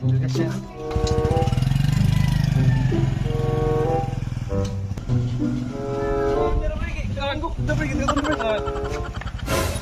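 Motorcycle engines rumble and idle steadily nearby, a low throbbing drone with revving shifts, while people talk over them.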